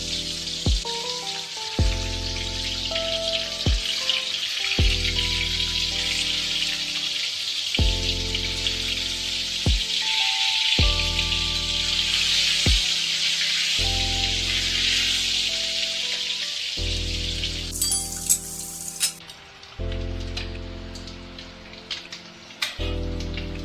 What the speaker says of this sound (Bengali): তেলটা গরম হয়ে গেছে, এবার একে একে ডিমগুলো আমি ভেজে নেব।